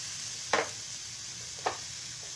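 Ginataang papaya stirred in a pan over a steady low sizzle, with three short scraping strokes of the spoon spaced about a second apart, close and fairly quiet, no talking.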